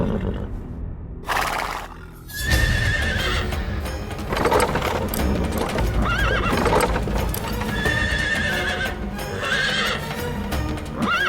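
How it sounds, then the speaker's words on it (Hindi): A horse pulling a halted chariot neighs loudly and repeatedly over busy, clopping hooves and rattling movement, close and dense throughout. "घोड़ा आगे ही नहीं बढ़ रहा है।"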